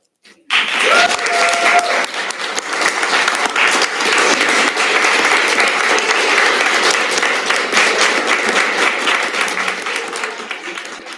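Sudden, sustained applause fills the hall at a state bar swearing-in ceremony, dense and loud from the first moment and holding steady before thinning slightly at the end.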